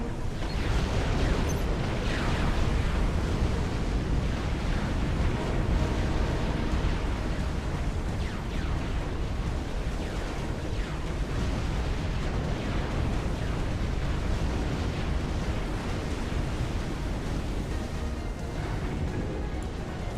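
Black Sun superweapon firing in the Supreme Commander strategy game, a dense, continuous roar of rumbling explosions and bursts that stays loud and unbroken throughout, with no voices over it.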